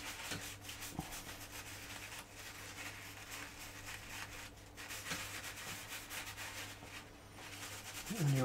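Paint being rubbed off the raised checker plate of a 1/48 scale Trumpeter Type VIIC U-Boat model, a faint close scratchy rubbing in quick repeated strokes over a low steady hum.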